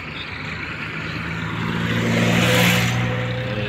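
A heavy engine rumbles steadily as a vehicle approaches and passes nearby, its low drone swelling slightly then fading a little.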